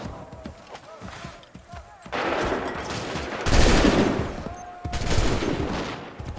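Musket volleys from Assassin's Creed III: bursts of loud, crackling gunfire roll out in waves around the second, third-and-a-half and fifth seconds, with shouted voices between them.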